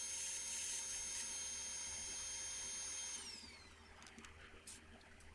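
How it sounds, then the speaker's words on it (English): A 2x72 belt grinder whines steadily as steel tubing edges are deburred, a loud sustained tonal drone that winds down partway through, leaving quieter shop noise and scattered clicks. "I'm just deburring everything, cleaning up the edges on the 2x72 grinder"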